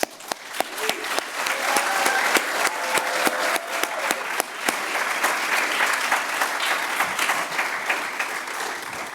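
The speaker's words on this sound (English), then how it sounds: "Please join me in a congratulatory applause to our candidates." Graduates' audience at a spring 2022 DBA graduation ceremony breaks into sustained, lively applause. The clapping is dense, with a few sharper individual claps standing out near the start, and it stays loud throughout.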